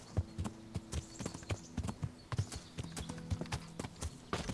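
Horse hooves clip-clop steadily in the medieval game Kingdom Come Deliverance, a brisk uneven rhythm of close, sharp knocks on a road or woodland track, with a low hum underneath and no talking.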